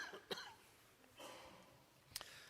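Several short, faint coughs in a quiet committee meeting room, one near the start, a rougher cluster in the middle and a sharper one near the end, with no talking.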